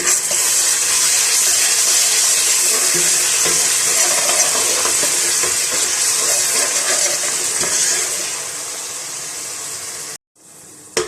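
Tomatoes frying with ginger-garlic paste for daal, a loud continuous sizzle that fades toward the end before a brief silence and a final clatter.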